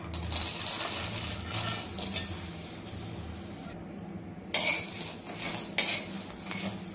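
Garlic, peanuts and green chillies are dry-roasted on an iron griddle, a spatula scraping and clinking against the hot surface in irregular strokes while a soft sizzle runs underneath.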